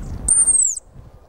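A hunting whistle blown to imitate a song thrush's call, pitched a little higher than the real bird, gives a single clear high whistle rising then gently falling, close and alone over faint background.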